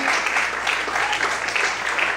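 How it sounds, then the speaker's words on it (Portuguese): Dense, continuous applause from a church congregation, steady and fairly loud for the whole stretch with no voices on top. "levanta a mão, glorifica o Senhor e aplauda ele nessa noite"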